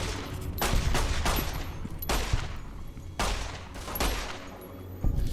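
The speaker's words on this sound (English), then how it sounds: "take out the 9mm pistol and get to work on them" Rapid bursts of 9mm pistol fire in Fallout New Vegas, a string of sharp loud shots with reverberant tails, spaced irregularly through the clip over a steady game background, no talking.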